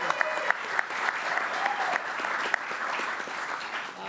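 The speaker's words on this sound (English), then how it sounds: "Let's give him a round of applause as well." At a gathering where the PGA Championship coming to New York State is announced, an audience gives a sustained round of applause, a moderately quiet, even patter of many hands with a few sharper nearby claps.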